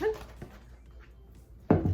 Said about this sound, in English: My dog really wants to jump up in the chair with me.